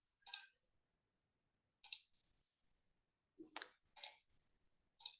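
Quiet, crisp computer mouse clicks come in small isolated bursts, some single and some in quick pairs, separated by silent gaps.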